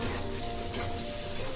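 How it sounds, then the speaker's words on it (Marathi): Chopped onion sautéing in a pan with a pinch of salt, cooked until pink for a spicy tinda (round gourd) bhaji, giving a steady, moderate sizzle with faint stirring scrapes and no voices. "छान असा परतून घ्यायचा आहे पिंक होईपर्यंत"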